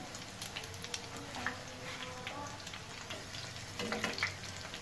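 A vegetable patty fries in a pan over a low-medium flame, giving a steady, soft sizzle with faint crackles and occasional brief clicks, close by, with no talking.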